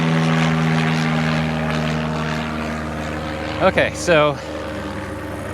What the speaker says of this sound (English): Hear the airplanes.